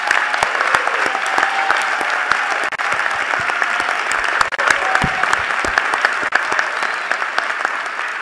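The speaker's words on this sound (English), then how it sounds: "Please give him a round of applause." Audience applause at a university presidential installation ceremony, a sustained wash of many hands clapping with sharp individual claps standing out, steady and full for over eight seconds.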